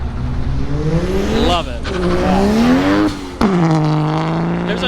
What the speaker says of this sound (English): You hear him yank that e-brake, that little squeak?